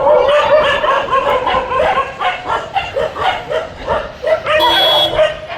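Several street dogs bark and yip close by, overlapping in quick, uneven bursts with some whimpering mixed in, loud throughout.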